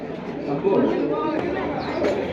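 Pigeons cooing at a busy pigeon market, soft low coos blending into a dense background of crowd chatter and market noise, moderately close.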